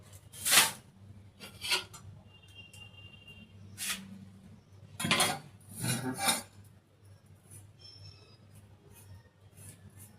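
Potatoes being peeled by hand in a home kitchen: several short, separate rasping scrapes come close up, with quiet pauses between the strokes.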